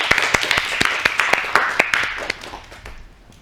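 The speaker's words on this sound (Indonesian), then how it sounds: "Beri aplaus untuk kelompok 1." Classmates clap for a presenting group in a classroom, a brisk burst of close, sharp hand claps that thins out and fades over a few seconds.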